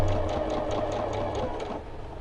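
Sewing machine stitching a quarter-inch seam through lined-up quilting fabric, a close, rapid even needle chatter with a steady motor hum, running briefly on its own without talk.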